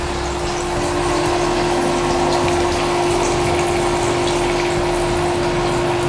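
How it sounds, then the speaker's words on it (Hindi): Masala-coated fish pieces fry in hot oil in a kadai, giving a loud, steady, unbroken sizzling hiss with a low hum underneath for about six seconds and no talking. "मसाला लगे फिश के पीसेस को उठाकर हम कढ़ाई में डालते जाएंगे।"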